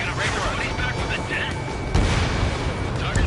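An explosion as a radar vehicle is destroyed in the combat flight game Ace Combat 7, heavy booming blasts rumbling under radio voice chatter, with a stronger burst near the middle.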